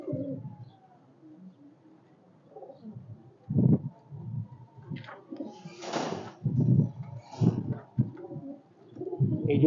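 Highflyer pigeons give soft, low, repeated coos in uneven bursts close by at a pigeon market, with rustling, a sliding scrape and quiet voices around them.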